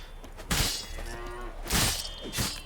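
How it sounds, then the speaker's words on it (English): A cow in The Witcher 3 video game lets out two loud, close moos separated by a pause, with a shorter grunt at the end, no talking. "This cow is invincible."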